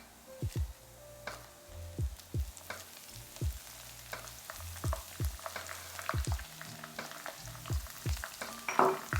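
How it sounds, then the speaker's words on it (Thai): Kaffir lime leaves crackle and sizzle in hot oil for vegan soy-protein chilli-ginger stir-fry, with a steady frying hiss punctuated by repeated sharp spatula scrapes and clicks against the pan, close and fairly loud, no talk. "ผมก็จะทอดตัว ใบมะกรูดใส่ลงไปด้วยนะ"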